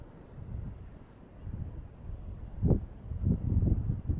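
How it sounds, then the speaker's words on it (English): Strong wind buffeting the microphone on a clifftop beacon above the coast, uneven low roaring gusts that swell and fade, growing heavier toward the end. "Very windy up here"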